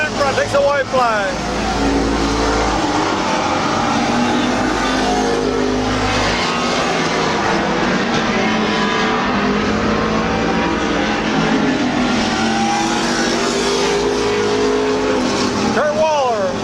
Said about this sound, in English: As car 18, Kurt Waller out in front, takes a white fla